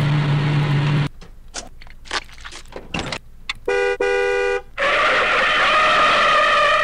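Clipped car effects from 3D Movie Maker play in choppy bursts, including a tonal horn-like blast. They are followed by a loud, sustained broadband tire screech that runs to the end.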